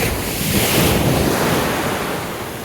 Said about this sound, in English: The waves are actually nice today.